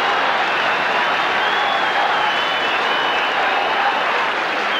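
A large football crowd roars and cheers after a goal for St Kilda against Melbourne in 1991, a broad, steady wash of distant noise with clapping mixed in, sustained at even loudness throughout.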